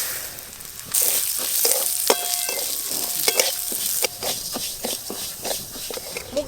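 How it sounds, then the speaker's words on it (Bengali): Mung dal frying in a pan for khichuri, a bright sizzle that jumps louder as it starts, with repeated scraping stirs and utensil taps against the pan. "খিচুড়ির জন্য প্রথমে আমি মুগের ডাল ভালো করে ভেজে নেব।"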